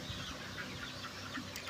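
Chickens clucking softly on a farm during hot weather, a faint continuous murmur of birds at a distance.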